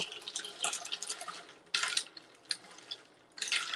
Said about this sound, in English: I'm just going to use my straw just to stir it up